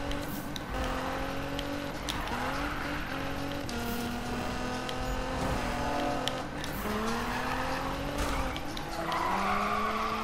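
Nissan GT-R drifting in the Need for Speed video game, its engine droning steadily while tires squeal and skid continuously at close range, with shifting engine pitch throughout and no talk.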